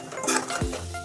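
A utensil clinks and scrapes against a pan while tomato paste is stirred into masala for masala macaroni, giving a few close metallic taps over a low background hum.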